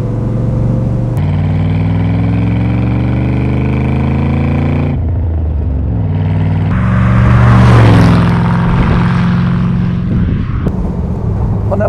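A loud 1966 Iso Grifo 300 GL engine rumbles close by, idling with rising and falling pitch and a brief rev in the middle.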